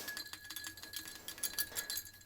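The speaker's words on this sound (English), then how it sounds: "I'm rinsing the purple out of my brush" Paintbrush clinking against a glass jar of water as purple acrylic paint is rinsed out, a series of light, quick glassy taps and small splashes at close range with no talk.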